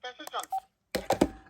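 Telephone keypad tones dialing into voicemail, a handful of short, clear beeps in quick succession, followed by a recorded voice speaking.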